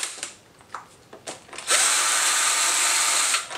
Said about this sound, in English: Then you're gonna wanna switch to the 12 millimeter hex head socket.